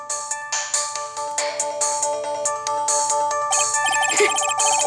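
A cell phone ringtone in the Ace Attorney courtroom video game plays a bright repeating electronic melody of short chiming notes, loud and alone with no talking.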